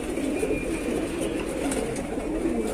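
A pigeon in a village loft near Bareilly, Uttar Pradesh, its tail feathers pulled out by an animal, coos in a low, continuous murmur alone at close range.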